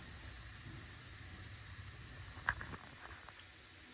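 Steady broadband hiss of compressed air escaping from the brake system of an MC9 seated coach, constant and close, with a faint tap partway through and no speech.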